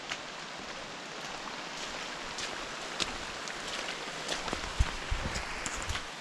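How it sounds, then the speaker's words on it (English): Heavy rain pours down on a mountain trail in the White Mountains, a steady dense hiss of drops with scattered louder splats and patters close by, no voices. "Like downpouring as soon as I got going."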